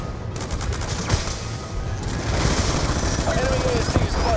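Video game gunfire aimed at enemy ASD units rattles in dense, sustained bursts of rapid shots, loud and continuous throughout, with fire growing heavier partway through.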